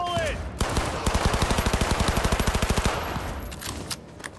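Rapid automatic gunfire in Cyberpunk 2077, a steady burst of evenly spaced loud shots lasting about two and a half seconds, followed by a few scattered single shots and room noise.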